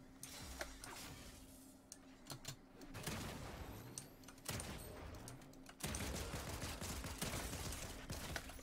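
Gunfire crackles behind the player in Fortnite, a run of rapid overlapping shots at middling distance that grows denser and louder in the second half over steady game background noise.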